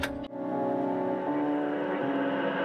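An abandoned 1964 Chevrolet Impala engine, left sitting over 20 years, being cranked over with a spark plug out: a brief click, then a steady, droning starter-and-engine whir that continues close and even without firing.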